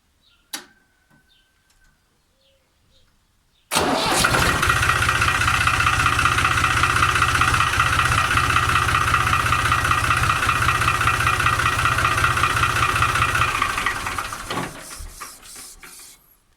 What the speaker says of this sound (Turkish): Bunun için ben traktöre marş yapıyorum.